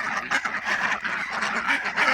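A flock of ducks quacks continuously at close range, overlapping nasal calls in a busy, uneven chorus with no talking.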